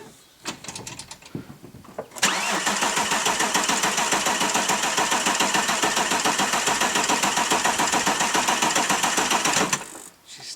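An engine that has sat unused for several months cold-starts after a short churn of cranking, then settles into a loud, steady, rapid idle close by for about eight seconds before cutting off.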